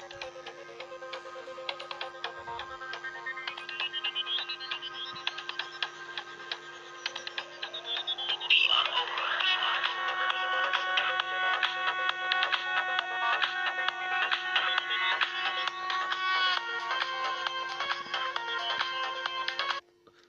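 A music loop plays from a Samsung phone, a bright tonal track that starts quietly and then rises to a fuller, steady level after several seconds, running alone with no talk.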